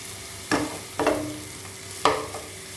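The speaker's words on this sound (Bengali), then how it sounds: "টমেটোটাকেও একদম গলে যাওয়া অবধি ভালো করে ভাজতে হবে" Chopped tomato frying with spices and onion: three distinct scraping stir strokes, spaced unevenly, over a low steady sizzle.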